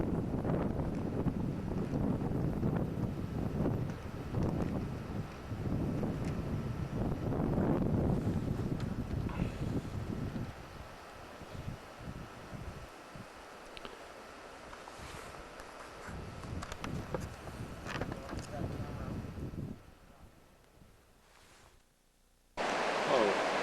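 Broad, steady roar of rushing water from the mile-long rapids between Linderman Lake and Bennett Lake, heard outdoors with wind buffeting the microphone; it thins partway through, then swells again before a brief drop near the end.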